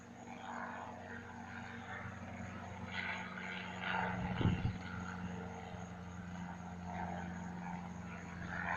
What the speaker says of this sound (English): That's the helicopter that says DHS on it.